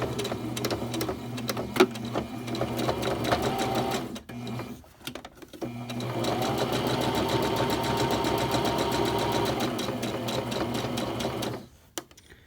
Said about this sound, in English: I'll do a back stitch.